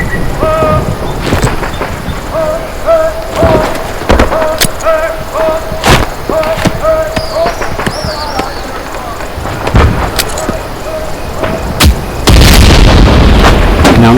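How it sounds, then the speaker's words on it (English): Explosions and gunfire in the Vietnam-era Hell Let Loose video game: sharp booms and thuds scattered through the clip, a ringing tone in places, a loud burst near the end, and no talk heard. "Grenades are a powerful explosive item. Equip one now and throw it towards the enemies."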